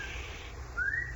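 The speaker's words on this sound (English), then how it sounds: "He whistled as he thought of the gold that he had" A single clear whistled note rises and holds briefly near the end, over a low steady background hum, with no voices.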